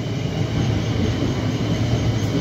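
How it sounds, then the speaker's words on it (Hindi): Metro train passing by in Moka, Mauritius, a loud close rumble with rolling wheel noise that stays steady for the whole short stretch, with no talking. "और एक बार फिर से मेट्रो जाती हुई"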